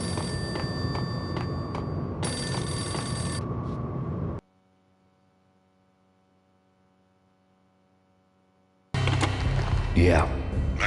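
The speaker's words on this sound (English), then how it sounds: "Payphone started to ring." A payphone in the Max Payne game rings loudly with a repeated bell trill, cutting to near silence with low hum, then returning alongside a voice speaking.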